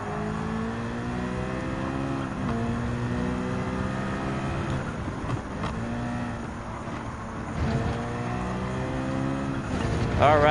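Citroen and Bugatti hypercars race in Gran Turismo 7, with a continuous engine roar climbing through gear changes, loud and sustained.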